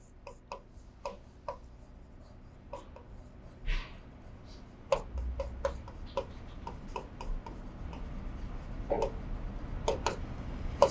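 A pen writes on paper while account figures are noted, giving close, intermittent scratches and small ticking taps in short bursts, with no one talking.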